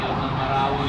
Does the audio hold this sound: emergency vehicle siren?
yes